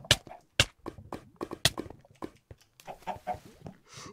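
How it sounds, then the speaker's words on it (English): A Minecraft chicken heard among busy game noises, with soft clucks scattered through a series of sharp clicks and taps, fairly quiet overall. "there's a chicken down there."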